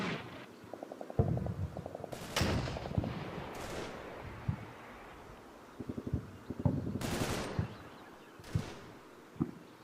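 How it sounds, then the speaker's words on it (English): Machine gun fire in Combat Mission: Battle for Normandy comes as short rattling bursts, interspersed with louder distant booms and single cracks, moderately loud with gaps between volleys. "See if I can identify the exact position of where that machine gun's coming from."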